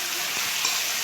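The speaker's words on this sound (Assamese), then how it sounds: "সেইখিনি পিঁয়াজখিনি অকণমান ৰঙা হোৱালৈকে ভাজিম" Onions sizzling in a pan as they fry toward a reddish colour, a continuous dense hiss and crackle, close and steady with faint stirring.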